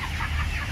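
Several 20-day-old broiler chickens cluck and murmur close by in a brief, continuous burst of soft farmyard chatter.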